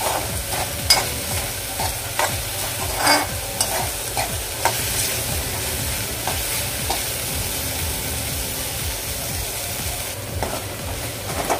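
Masala stirred and sautéed over a medium flame for a dhaba-style mushroom dish: a continuous close sizzle broken by repeated scraping and tapping of a spoon against the pan, no voices.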